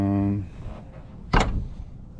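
A pickup truck passenger door on a donor vehicle is handled, ending in a single loud, sharp thud or slam after a short hum and some quieter rattling.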